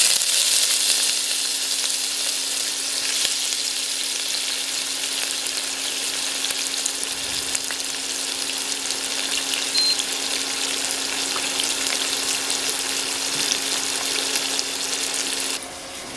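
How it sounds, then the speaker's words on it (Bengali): Washed, cut onions sizzle steadily in hot white oil for chicken biryani, a loud, even frying hiss that holds for about sixteen seconds with no talking and drops slightly at the very end. "বন্ধুরা তেলটা আমার গরম হয়ে গেছে এখন কেটে ধুয়ে রাখা পেঁয়াজগুলো তেলের মধ্যে দিয়ে দেবো"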